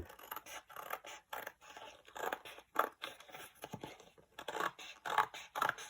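Scissors snipping off a paper flap from a junk journal cover, a quiet series of close, irregular crisp cuts and scrapes with small clicks.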